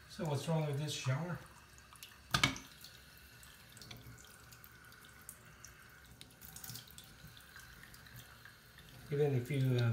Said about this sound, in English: Even if you turn the knob, the water keeps flowing.